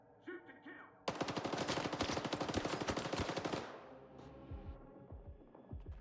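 Rapid automatic gunfire in a video game shooter: a loud, fast, evenly spaced burst lasting about two and a half seconds, preceded by a few scattered shots and followed by softer thumps and game sounds.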